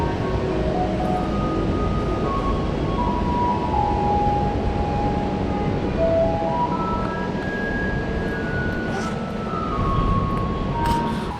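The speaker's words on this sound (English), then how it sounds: "a garbage truck that tells adults to come out and dump their trash" A Taiwanese garbage truck in Hsinchu plays its tinkling melody over a steady rumble of engine and street noise, the tune thin and somewhat distant, continuous throughout without speech.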